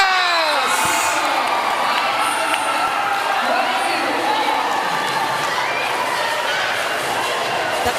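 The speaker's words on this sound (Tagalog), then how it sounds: "The crowd is loving this game." Volleyball crowd in a women's league match, Senate Lady Defenders versus PNP Lady Patrollers, roaring and cheering loudly and continuously after a rally, with excited shouts and a commentator's voice under the noise.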